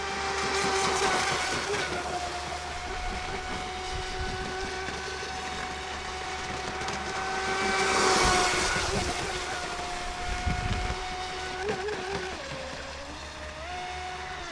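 The electric motor of a Vector SR80 Pro radio-controlled boat on lipo batteries whines steadily at a fairly high pitch, shifting in tone as the boat speeds up and turns, with faint water splashing underneath.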